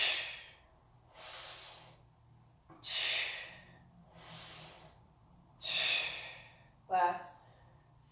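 Forceful exhales during a yoga core exercise come as sharp, breathy bursts of air at a slow, irregular rhythm, close to the microphone, with quieter inhales between them.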